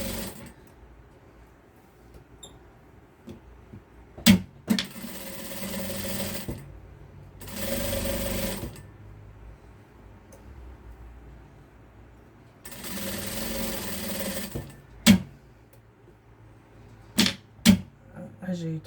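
A sewing machine stitches fabric that is pinned in place, running in two short whirring bursts separated by quiet stretches with sharp mechanical clicks. The passages are soft and close, and a person talks at times.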